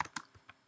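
A handful of separate keystrokes tapped on a computer keyboard, close and fairly quiet, each click distinct with short gaps between them.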